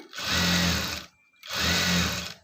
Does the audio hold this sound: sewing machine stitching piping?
yes